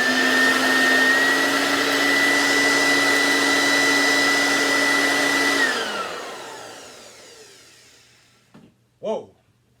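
Kenmore twin fan two speed upright vacuum running with the bag removed, a loud, rough whine with strong steady tones that drops in pitch and winds down midway, leaving a few faint knocks and clatters as it stops.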